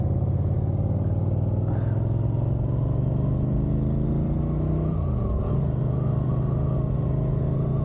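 A motorcycle cruising along American country roads gives a steady, continuous engine drone with a slight pitch dip and recovery midway, heard close from the rider's position with no talking.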